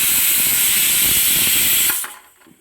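Pressure cooker whistle blasting steam while sprouted beans cook inside, a loud steady hiss that holds for about two seconds, then cuts off abruptly and leaves faint kitchen noise.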